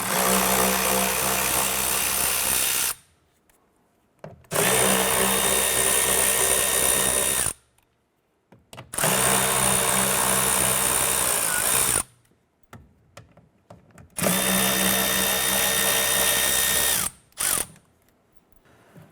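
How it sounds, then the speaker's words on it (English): A power driver with a 5mm socket buzzes and ratchets as it backs out speaker screws in a Ram 1500 door panel, four loud bursts of several seconds each separated by short quiet gaps, close to the mic. "we're going to go ahead and use a 5mm socket, and we're going to go ahead and remove the 4 screws holding our speaker in place"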